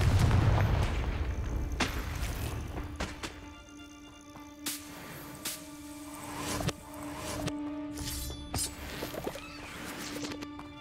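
Confringo blasting spells in Hogwarts Legacy go off in a deep opening boom followed by a string of sharp cracks and impacts at irregular intervals over combat ambience.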